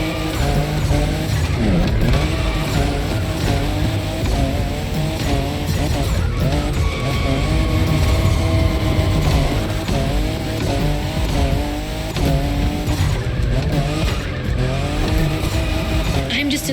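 Car drifting in the racing video game The Crew Motorfest, with a loud continuous engine roar and sustained tire squeal as it slides, the pitch rising and falling with each throttle change, close and dominant throughout.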